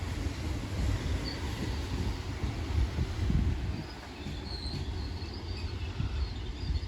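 A Class 800 IET train running through Totnes station, a steady near rumble of wheels and engine with faint high squeals and occasional birdsong, no voices.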